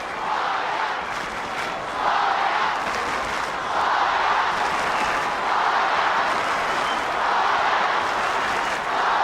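At Arden Street, an Australian football crowd of Kangaroos supporters cheers Spider Burton with a sustained, loud roar that swells in waves and carries applause and shouting throughout.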